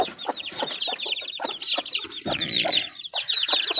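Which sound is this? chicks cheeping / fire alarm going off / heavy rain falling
chicks cheeping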